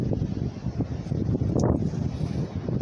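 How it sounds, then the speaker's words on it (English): Breeze buffeting a microphone beside the Pacific Ocean shore, a steady low rumbling gusty roar with brief louder puffs, no clear voice. "it's actually a little breezy right now because we're right next to the water"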